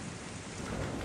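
Heavy rain pours steadily with low thunder rumbling underneath in the Switch otome game Harukanaru Toki no Naka de 7, a dense, unbroken wash of sound with no voices.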